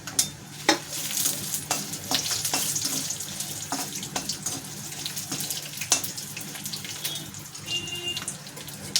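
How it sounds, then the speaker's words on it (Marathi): Chakli pieces and red chillies frying in oil, a continuous bubbling sizzle broken by sharp clicks and knocks of a utensil against the pan, with some running-water-like hiss and no talk. "म्हणजे याच्या चकल्या तेलामध्ये तळून घ्यायचं सोबतच लाल मिरची पण आपण तळून घेणार आहे"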